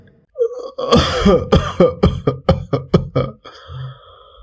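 A man coughs and clears his throat in a close burst of about eight sharp, rapid hacks that gradually weaken, with no talk.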